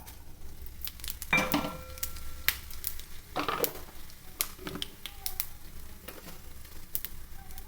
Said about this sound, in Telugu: పచ్చడి తాలింపు పెట్టుకుంటున్నానండి. ఇప్పుడు ఫస్ట్ తాలింపు గింజలు వేసాను, తర్వాత ధనియాలు, జీలకర్ర,